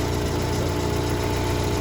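A 1992 Mazda Miata engine idles steadily while warming up toward operating temperature, a constant close low rumble with even vibration and no speech.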